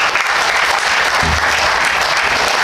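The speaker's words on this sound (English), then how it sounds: "Let us acknowledge their dedication with a well-deserved round of applause." An audience at an alumni awards ceremony gives the jurors a round of applause, dense steady clapping from a full room, close and sustained for the whole stretch with no voices standing out.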